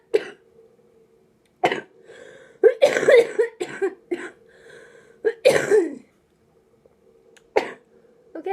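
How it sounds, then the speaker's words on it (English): A person recovering from a medical treatment coughs in short, harsh bursts, a few single hacks and a couple of clustered fits separated by quiet pauses, close to the microphone. "I just finished my treatment, which is why I'm coughing a lot."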